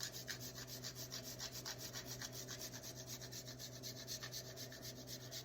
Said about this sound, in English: grate some chocolate orange